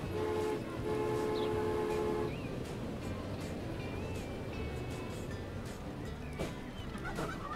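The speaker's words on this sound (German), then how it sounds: "Da wartet schon der Zug, dass er durchfahren kann." A train in the Transport Fever video game sounds a sustained tonal horn early on, then rolls past with steady rumbling and clattering wheels and a few brief squeals, loud and close throughout.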